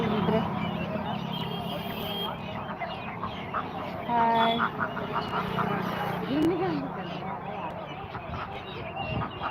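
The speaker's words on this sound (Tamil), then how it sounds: "வாத்து பாரு வாத்து" Ducks quack in a noisy outdoor market scene, several honking calls mixed with people talking and background chatter.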